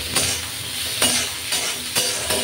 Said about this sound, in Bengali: আলু আর বেগুনটা আমি ভালো করে ভেজে নিলাম।